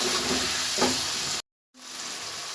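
Tomatoes fry and get stirred in a pan while masala Maggi noodles are made: a loud, steady sizzle with a brief scraping stir, then a sudden short silence before the sizzle returns more softly.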